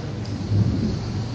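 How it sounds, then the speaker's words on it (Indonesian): Heavy rain pours down as a dense continuous wash, while a low rumble of thunder swells briefly in the middle and fades back into the downpour. "ini kan hujan."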